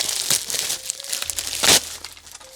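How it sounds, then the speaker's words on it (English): Tight wrapping being pulled off an IBM CGA colour graphics adapter card, close crinkling and rustling in short bursts with one sharper crackle near the end. "let me just unwrap it here. This thing is really well wrapped."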